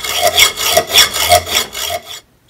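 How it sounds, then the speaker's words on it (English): A hacksaw cutting off part of a bolt on a Harbor Freight Central Machinery lathe: six steady back-and-forth rasping strokes, close and clear, ending in a brief silence. "So we cut this off with a hacksaw."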